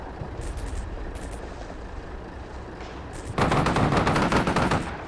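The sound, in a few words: machine gun fire in Combat Mission: Shockforce 2 video game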